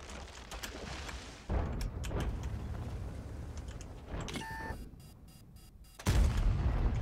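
Tank cannon shots boom in a World of Tanks battle with a VK 45.02 A, several heavy blasts at uneven gaps among rumbling game sounds, the loudest near the end.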